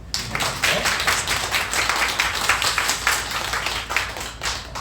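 Church congregation at a Christmas Eve Sunday service claps together, a fairly loud and lively patter of many hands with slight rhythmic surges across the whole stretch.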